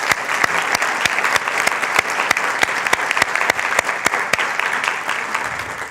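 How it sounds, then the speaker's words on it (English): A lecture-hall audience applauds steadily throughout, a dense wash of many hands clapping with sharp individual claps standing out, loud and sustained with no talk over it. "How about a round of applause for all those folks?"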